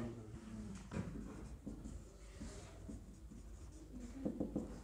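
A pen writes on paper with soft scratching strokes in short irregular bursts, close and fairly quiet, without any talking.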